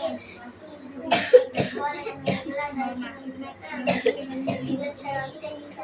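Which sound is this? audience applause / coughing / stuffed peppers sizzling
coughing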